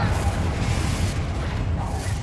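A Confringo fire spell explodes in Hogwarts Legacy on PS5, a loud continuous rumbling boom filling the whole moment with a dense low-end roar and crackle.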